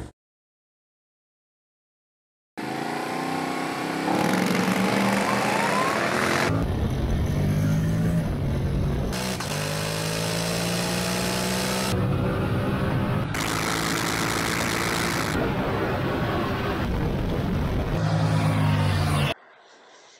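A Honda X-ADV 750 DCT motorcycle accelerates hard from first gear, its engine rising in pitch then dropping at each quick automatic shift, several rapid upshifts in a row, loud and close after a brief silent start.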